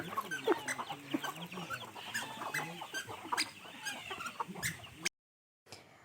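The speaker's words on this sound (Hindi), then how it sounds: "यहाँ पे आप देखेंगे मुर्गी पकड़ो टेक्निक" Chicken clucking and squawking loudly and close by in a Longleng, Nagaland village as a man catches it, busy agitated calls for about five seconds before a sudden cutoff and brief return.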